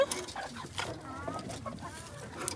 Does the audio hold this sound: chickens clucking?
yes